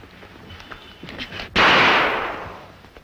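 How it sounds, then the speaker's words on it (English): A single sharp gunshot sound effect from a 1932 radio mystery drama cracks loudly just past the midpoint and rings out in a long decaying tail, after faint background voices. "I'll shoot!"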